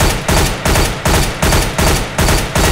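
Counter-Strike: Global Offensive high-caliber gunfire punching through a wooden target, seven loud evenly spaced heavy shots, each a broad blast, close and alone.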